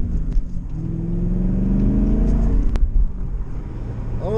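A BMW M Roadster drives along the road nearby with a steady, loud engine rumble and a slight rise in revs, with no voices over it.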